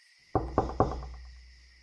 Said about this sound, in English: I gave the door a couple knocks.